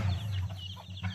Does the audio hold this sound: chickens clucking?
yes